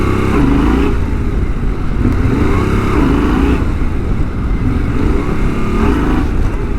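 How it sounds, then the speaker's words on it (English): Yamaha Tenere motorcycle during wheelie practice, its engine loud and close throughout, rising and falling in repeated revs with a rough, throbbing roar and no voices. "practicing wheeling on the Tenere"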